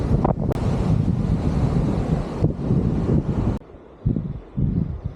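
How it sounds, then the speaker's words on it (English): Strong wind roars and buffets the microphone in heavy gusts on a beach, with a brief lull near the end before the blustering resumes. "The wind is very strong"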